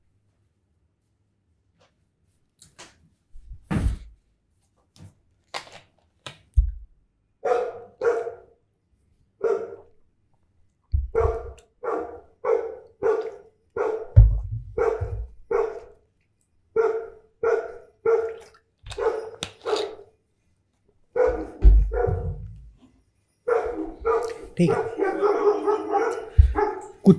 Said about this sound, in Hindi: कुत्तों की आवाज़ पे ध्यान नहीं देंगे।